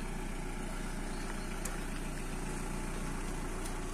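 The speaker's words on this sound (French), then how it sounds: "je laisse entendre un peu le moteur" A restored Peugeot 306 Cabriolet Roland Garros engine idles steadily with a low, even rumble throughout, no voices and no change in pace.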